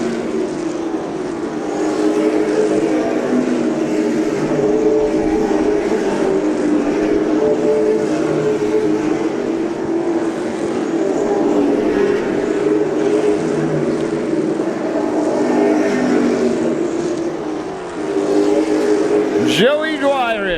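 Pro stock race cars in the Granite State Pro Stock Series lap Lee USA Speedway late in the race, with a continuous loud engine roar that swells and fades as the pack passes. A commentator talks over it, and a sharp sweep comes near the end.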